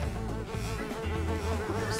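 Insect-like buzzing from bees in the video game Ninjabread Man, a steady droning hum with layered harmonic tones running through the whole stretch at moderate loudness, with no talk over it.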